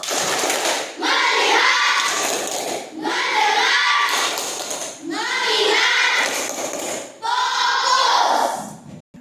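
A class of pupils performs a rhythmic focus clapping chant, four loud rounds of patterned claps mixed with children's chanted voices, each separated by a brief pause.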